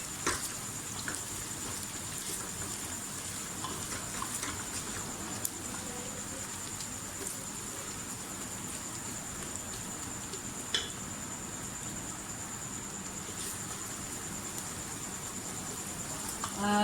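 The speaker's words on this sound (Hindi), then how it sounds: "थोड़ा सा और इसको करेंगे फ्राई।" Onions frying in oil for mutton paya, a steady even sizzle that continues throughout with occasional faint ticks and spoon taps, close and moderately quiet with no talking.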